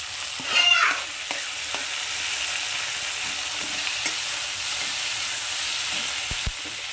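Chopped tomatoes go into onion, ginger and garlic frying in a pan, with a steady close sizzle and an early louder hiss as they land, followed by occasional spoon taps and stirs.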